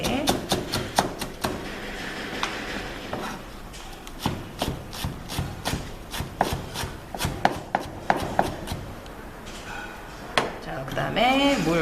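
A knife rapidly minces green onion on a cutting board in a cooking-school kitchen, giving fast, close, sharp chopping taps in bursts with brief pauses.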